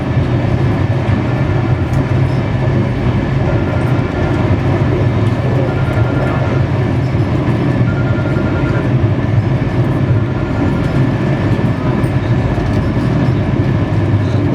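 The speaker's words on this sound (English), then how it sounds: "160 km pitch on the house, ripping the tracks apart." The Gatimaan Express roaring loudly along the tracks at 160 km/h, a dense continuous rumble and rattle heard from inside the carriage, with no let-up.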